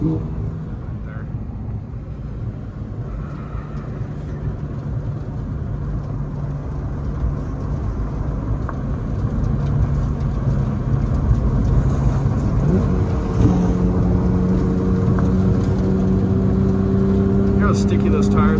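A straight-piped Porsche GT3 engine drones from inside the car as it drives, a low steady rumble that swells louder toward the end, with a voice talking over it.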